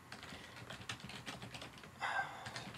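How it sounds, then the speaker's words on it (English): Typing on a computer keyboard, a steady run of light, quick clicks at close range, with a slightly louder burst of keys near the end. "I'll just type in the HTTP"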